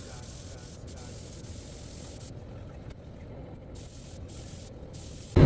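A spray gun hisses steadily at close range, laying CSR clear coat onto a car in a paint shop, a continuous broadband spray with brief pauses near the end.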